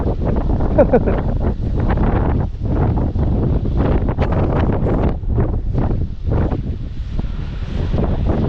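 Strong wind buffets the microphone continuously on a muddy motorcycle ride in Calanasan, with rough gusting rumble throughout and voices partly audible underneath.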